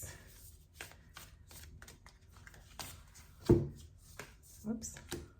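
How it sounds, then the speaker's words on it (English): Archetype oracle cards being shuffled by hand, a run of quick soft riffles and taps at close range, with one louder knock partway through, quiet overall. "So I'll shuffle the archetypes."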